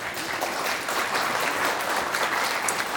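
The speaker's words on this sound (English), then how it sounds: "So we could give them all a round of applause." A luncheon crowd at the Pleasant View Senior Center applauds its sponsors, a dense, close, continuous patter of many hands clapping at a steady level, with no voices heard.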